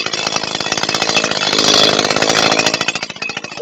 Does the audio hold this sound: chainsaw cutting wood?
yes